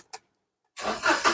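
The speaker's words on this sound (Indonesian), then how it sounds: "sekarang kita coba nyalakan mobil." A Toyota Agya 1.0 TRD Sportivo with manual transmission, a 2014 model, starts up after a brief click and silence, its engine catching quickly and running on at close range.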